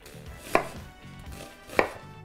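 Knife chopping down through an onion on a cutting board, making half-inch slices: two sharp, distinct thuds about a second apart, close and alone.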